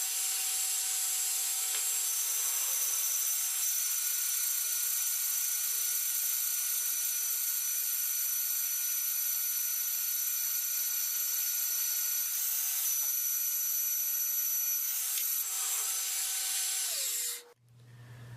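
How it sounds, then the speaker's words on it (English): A BDS MAB 485 SB magnetic drill on low gear bores a hole with an armor-plated annular cutter, giving a steady, loud whining grind with a constant tone that runs unbroken for about seventeen seconds before spinning down and stopping. "I've installed the armor-plated annular cutter this time, and I'm going to go ahead and give it a shot"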